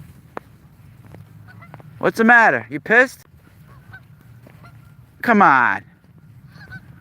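Migrating geese honk loudly and close by in two bursts of harsh, wavering calls separated by a pause, with someone speaking softly in between.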